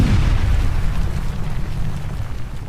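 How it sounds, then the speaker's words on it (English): A massive eruption of the volcano Vesuvius near the Roman town of Pompeii, heard as a loud, sustained deep rumbling roar of explosive force with no distinct separate blasts. "The town was close to a massive volcano called Vesuvius, and one day it suddenly went kaboom!"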